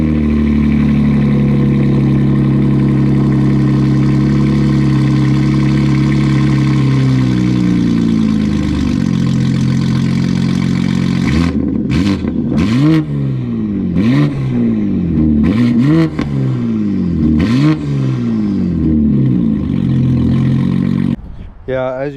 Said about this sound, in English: I have SSR catless downpipes, and then I have the Valvetronic mid pipe, which the car sounds pretty good.